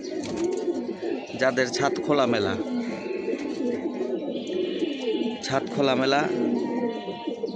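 Pigeons coo on an open rooftop, soft repeated rolling calls heard under a voice talking through most of the stretch.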